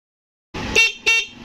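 Two short blasts from an NHAY 3+ Pro Music 12-volt vehicle horn wired through a relay, loud and close after a moment of silence.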